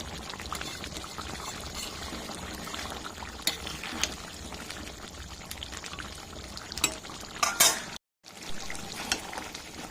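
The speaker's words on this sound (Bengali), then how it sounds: "এবার আমি বেশ কিছুক্ষণ ধরে ফুটিয়ে নিয়ে জলটা টানিয়ে নেব" A meat curry simmers and reduces in a pan, giving a steady, quiet bubbling that continues throughout, with a few louder sizzles and clatters near the end and one short dropout.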